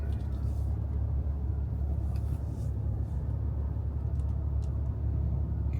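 A RAM truck pulls slowly onto a CAT scale at a truck stop, its engine a low steady rumble heard from inside the cab, with no talking.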